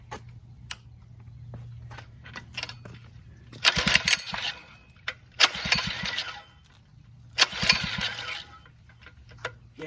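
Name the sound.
Phatmoto motorized bicycle engine starting and running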